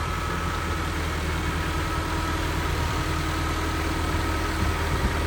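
A tractor engine running steadily while pulling a sprayer across a potato field, a constant low rumble and vibration with no change in pace and no voices.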